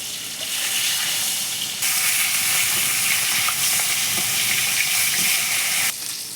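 Fish lightly fries in oil before being steamed, a loud, dense sizzle that holds steady and briefly swells stronger midway, with scattered crackles close up.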